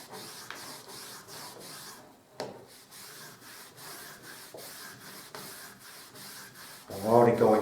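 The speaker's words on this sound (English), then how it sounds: "I'll rub all this off just to show you how easy it comes off." Caulk is rubbed off pre-primed MDF in a quick run of repeated scraping strokes, close and fairly quiet, with a brief louder scrape at the end.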